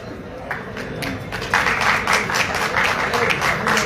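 An audience at a teachers' gathering in Lucknow applauds, a dense, steady crowd clapping that grows louder and fuller partway through, with a voice faintly heard beneath it.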